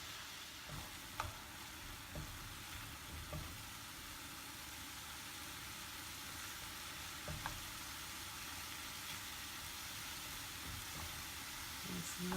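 Keto pork meatballs sizzle in a pan, a steady, even frying hiss that carries on without a break, with a few faint clicks and small pops now and then.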